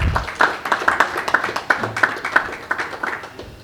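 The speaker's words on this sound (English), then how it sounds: "So friends, a loud round of applause" A small audience at an investor awareness program in Chembur claps, the individual hand claps clearly separate and uneven, loud and near, tapering over a few seconds.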